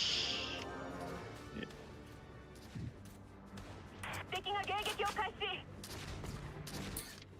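Shooting at an enemy sniper in the video game Valkyria Chronicles: a rapid burst of gunfire in the middle of the stretch, moderately loud, with people talking around it.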